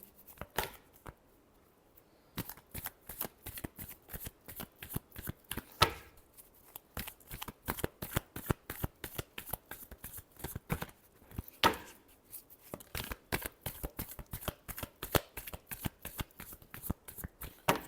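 Tarot cards being shuffled by hand in a long run of crisp, rapid riffling bursts and flicks, close and fairly quiet, with short pauses between passes and no voices.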